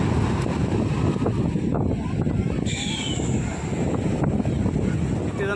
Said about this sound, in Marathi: थोडंसं वारा आहे